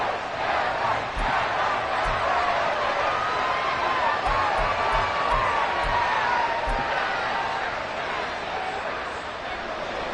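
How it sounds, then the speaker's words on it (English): Stadium crowd noise in the Madden NFL 24 football video game, a continuous roaring cheer with swelling shouts and scattered thumps, loud and sustained throughout. "How about some applause for the defense there?"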